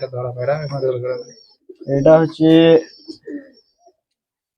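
A Murshidabadi pigeon coos in short bursts at close range, with someone speaking briefly over the calls.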